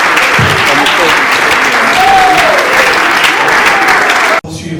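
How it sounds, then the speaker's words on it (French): Loud, dense applause and crowd noise at an awards ceremony honouring a sponsor, sustained throughout, with faint voices mixed in beneath before it cuts off abruptly near the end. "je vous demande d'applaudir frénétiquement"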